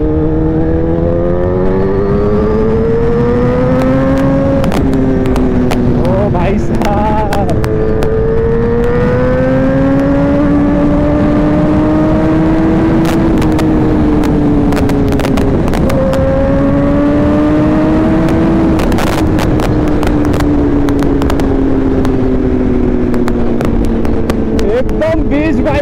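A Kawasaki ZX10R sport motorcycle engine is revved hard up close, its pitch climbing and falling in repeated sweeps with sharp crackling bursts, loud and dominant throughout.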